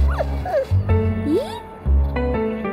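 A puppy whimpers and yips in a series of short, high, rising and falling cries, close by, with a low steady hum in the background.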